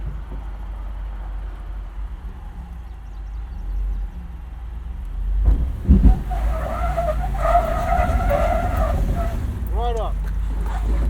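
A 2006 Toyota 4Runner V8 with 240,000 miles climbs a steep off-road slope, engine droning steadily as tires spin and scrabble with a rising squeal, while people talk over it.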